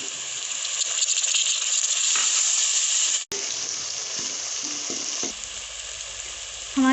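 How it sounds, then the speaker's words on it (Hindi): Tomatoes sizzle in hot oil with ginger garlic paste, a steady close frying hiss with brief stirring scrapes and a short break, continuing without talk. "अब हम इसमें टमाटर डालकर"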